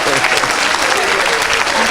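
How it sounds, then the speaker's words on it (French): A church congregation applauds for Jesus, a loud, dense burst of clapping from many hands close by, continuous through the clip with voices mixed in under the applause. "Acclamez pour Jésus."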